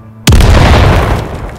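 A grenade goes off in the video game Battalion 1944 as a single loud, close boom with a sharp onset and a long rumbling decay, with no talk over it.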